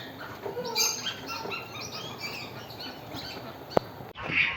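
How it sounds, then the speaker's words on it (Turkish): Parrots at a zoo give repeated harsh, shrill squawks and chirps over a few seconds, fairly close, with a sharp knock near the end and no talking. "burada yazdığı papağanlar var."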